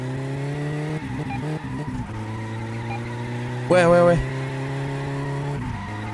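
A car in the video game My Summer Car skids on a flat tire, a short tire squeal rising over a steady engine drone, while a voice talks over the engine.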